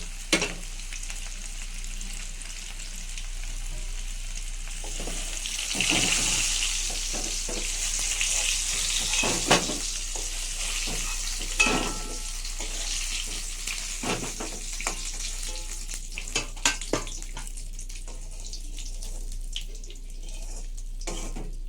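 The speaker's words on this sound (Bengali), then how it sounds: "আলুটা আমার ভাজা হয়ে গেছে, দেখুন লাল লাল হয়ে গেছে" Potatoes frying in oil in a wok for a fish-roe fritter curry, a continuous close sizzle broken by repeated sharp scrapes and clinks of a spatula, fading somewhat toward the end.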